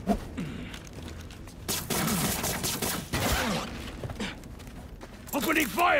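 Gunfire rattles in the Spider-Man 2 video game amid a busy mix of thuds, scrapes and mechanical noises, with voices talking over the action.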